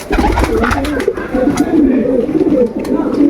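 Pigeons from a collected flock coo in low, soft, overlapping murmurs that run steadily throughout, close by and fairly loud, with some faint background noise.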